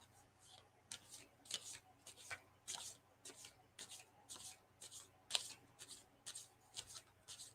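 Tarot cards are shuffled by hand in a quiet room, a soft, even run of papery riffles and slides repeating about a dozen times at close range.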